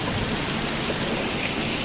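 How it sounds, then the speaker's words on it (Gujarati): Torrential rain falls in Dhoraji, Gujarat, a close, constant wash of hissing noise that stays even and loud throughout. "ધોધમાર વરસાદ, અતિશય વરસાદ ચાલુ થઈ ગયો છે।"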